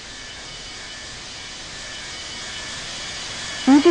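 Aircraft at Hurghada International Airport make a steady, broad jet roar and hiss, fairly distant and unchanging, with a brief knock near the end.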